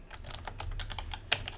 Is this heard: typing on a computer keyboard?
yes